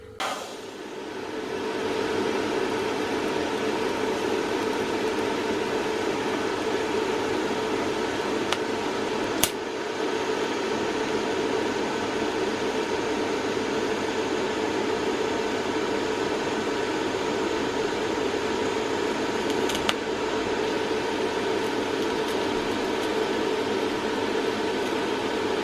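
TIG welding run on thin sheet steel car body panels with butt joints, a steady continuous hiss and buzz holding evenly for the whole stretch with two brief sharp clicks, no talking.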